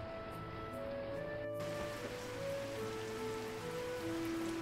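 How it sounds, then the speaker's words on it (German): Steady rain hiss in the video game Kitaria Fables, a soft continuous patter beneath quiet tonal game music, faint and unbroken throughout. "Und es regnet, das heißt, ich muss nicht mal ernten, ich muss nicht mal gießen."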